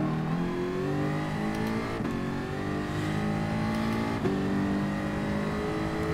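A race car engine in GT Sport at night on the Bathurst circuit holds a loud, steady whine close by, with its pitch climbing through the gears and two sharp shifts that reset it lower, and no talk.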